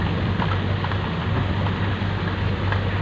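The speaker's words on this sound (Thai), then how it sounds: "ช่วงนี้ก็เป็นช่วงหน้าฝนนะครับฝนตก" Steady, dense hiss of rainy-season rain falling on a road, continuous and fairly loud throughout with a low rumbling undertone and no voices.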